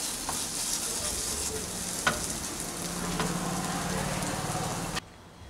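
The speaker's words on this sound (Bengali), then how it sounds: "ভালো করে নেড়ে নিয়ে এখন আমি গ্যাসটা বন্ধ করে দেব" Gathi kochu (taro) paste with a little mustard oil is stirred in a hot pan on a gas stove, with a continuous close sizzle, occasional utensil knocks, and a sudden drop to quiet near the end.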